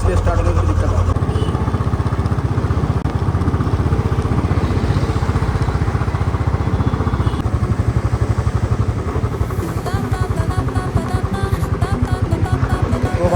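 A muddy, rain-soaked motorcycle engine running roughly, a loud rattling chug that sputters and varies in rhythm, close by, with voices talking over it.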